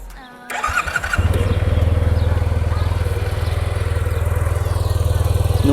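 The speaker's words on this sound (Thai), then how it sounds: "เดี๋ยวผม ลองสตาร์ทให้ฟังเสียงเครื่องยนต์กันดูนะครับ" A Yamaha T-MAX 560 Tech Max scooter with very low mileage cranks briefly and fires up, then settles into a steady, even idle that carries on loud and close.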